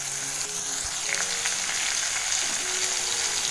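Tender bottle gourd frying in a pan with curry leaves, a steady bright sizzle throughout with faint stirring clinks, close and continuous, no talking.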